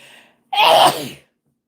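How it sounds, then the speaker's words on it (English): One loud, close sneeze bursts out of near silence after a brief intake of breath. "Sorry, I had to sneeze."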